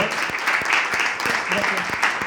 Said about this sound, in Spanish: Un fuerte aplauso para Lorena, que es la reportera.